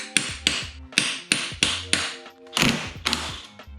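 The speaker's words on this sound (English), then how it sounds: "We've got a tab right here that we've got to bend down to get that sprocket off." About ten sharp metallic hammer taps strike a sprocket lock tab on a chain drive to bend it down, each hit ringing briefly in a steady, close rhythm.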